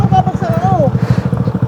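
A motorcycle is walked and maneuvered at a roadside mountain campsite, its engine putting out a steady low rhythmic idle close by, with brief whining sounds over it partway through.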